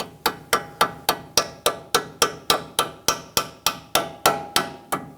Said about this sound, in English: Take a hammer and tap it in.